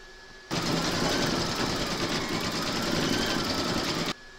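A home embroidery machine stitching the eyes onto a baby burp cloth, a steady rapid mechanical whirring that starts abruptly, runs for about three and a half seconds, and stops sharply, heard up close.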